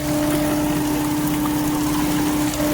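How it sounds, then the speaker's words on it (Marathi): Water pours into an air cooler, a loud, steady rushing flow with a constant low hum throughout, no voices. "सो हे गाईज आता मी कूलरमध्ये पाणी भरत आहो,"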